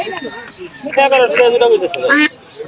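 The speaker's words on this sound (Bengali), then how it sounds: "গৃহস্থের হাঁস দেখেন অনেক সুন্দর একদম দেশি হাঁস" Domestic ducks quack loudly in bursts close by at a village duck and chicken market, with market chatter and voices mixed throughout.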